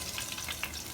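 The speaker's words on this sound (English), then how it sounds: "this ginger I'm going to fry until the ginger is golden brown" Fresh ginger frying in hot oil with bay leaves, a steady close hissing sizzle with small crackling pops throughout, no voices.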